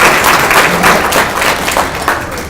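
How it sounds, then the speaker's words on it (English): Audience applause at a talk marking Jonas Salk's centenary year, a steady patter of many hands clapping that stays fairly loud and dense throughout, with a few brief murmurs mixed in. "you're going to have to clap again"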